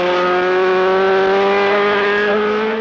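Racing motorcycles, Honda and Yamaha machines including a 750 Yamaha, scream past at Sarah's Cottage on the 1980 Isle of Man TT course, one sustained high-revving engine note, loud and close.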